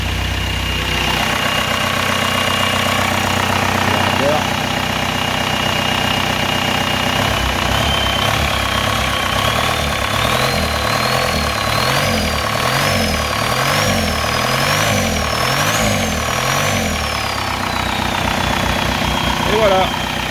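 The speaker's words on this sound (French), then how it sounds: "Donc le moteur tourne bien." A VW 1Z TDI diesel engine, run on the ground outside a vehicle, idles steadily and loudly up close with a rough, knocking rumble, while a whining tone rises and wavers partway through.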